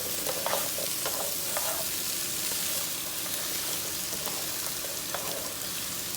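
Ingredients for a pot roast fry in a pan, a steady close sizzle with a few light clicks and scrapes as they are stirred.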